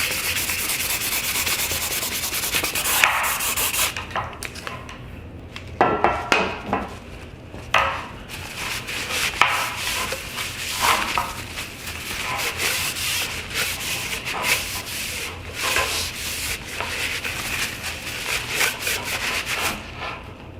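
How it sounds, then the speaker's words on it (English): 2000-grit wet and dry sandpaper roughs up the surface of a cracked Cannon Explorer FX kayak paddle, close and fairly loud, with repeated back-and-forth rubbing strokes in uneven bursts and short pauses. "I'm going to come back with some 2000 wet and dry sand. I'm gonna rough up the surface"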